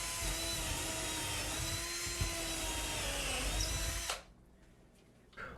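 A power drill bores pilot holes through shiplap into wall studs for a floating shelf, giving a steady, close, high whine for about four seconds before it cuts off into near silence with a faint knock at the end.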